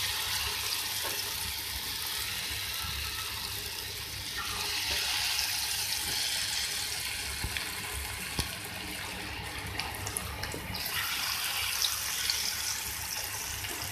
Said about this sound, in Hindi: अब इस तरीके से इस तेल में हम और पकौड़ों को फ्राई करेंगे।